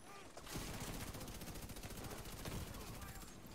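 A light machine gun fires a long rapid sustained burst in a video game shooter mission, loud and dense with brief pauses at the start and end.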